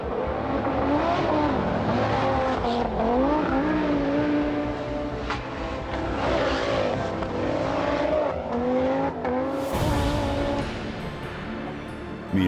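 Rally cars race hard over gravel, mud and snow, engines revving and rising in pitch through gear changes, with tire noise and skids mixed in. The sound is loud and close throughout, and no one speaks.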